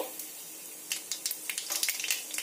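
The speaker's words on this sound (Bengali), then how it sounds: "তেলটা আমার গরম হয়ে গেছে। এতে দিয়ে দেব হাফ চামচ কালো জিরে" Half a spoon of nigella seeds crackle and spit in hot mustard oil in a heated kadai, faint scattered pops building into a quicker run of close, crisp splutters.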